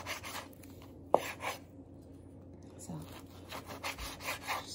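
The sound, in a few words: knife slicing pork shoulder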